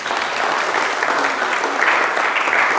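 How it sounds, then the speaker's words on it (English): Steady, dense applause from a lecture audience fills the room at close range, holding an even level throughout with no talking over it. "Can we have a round of applause?"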